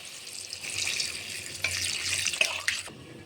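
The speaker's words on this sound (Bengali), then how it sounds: "আর একটু কষিয়ে জল দেওয়া হবে, জল দিতে হবে" Water poured into a cooking pan while a Bengali fish curry with gourd greens simmers, a steady splashing trickle lasting several seconds with a few louder gurgles before stopping abruptly, no voices.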